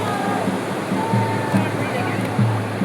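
Sea water rushes onto the shore during a Dashama Mataji idol immersion, a continuous loud wash of surf close by, with voices talking over it.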